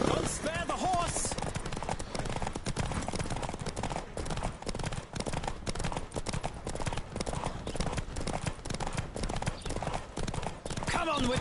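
Continuous rapid hoofbeats of a galloping horse in Witcher 3, loud and close throughout, with a brief whinny near the start and another near the end.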